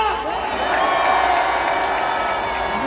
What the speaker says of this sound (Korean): 우리의 함성이 들리십니까?